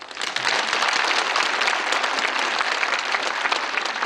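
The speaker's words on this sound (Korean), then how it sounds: "박수를 한번 쳐보세요" Lecture audience applauding during a talk on Korean dance, a dense, continuous burst of clapping from many hands that swells quickly and holds steady for several seconds.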